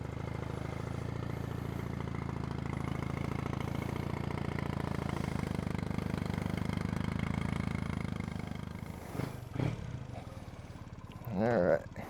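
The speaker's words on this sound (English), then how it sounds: "fired up here. Choke out, fuel on, couple blips, and there she goes." A Triumph Bonneville motorcycle with choke out fires up and settles into a steady idle, a low continuous engine drone that drops away near the end, followed by a couple of brief sharper sounds.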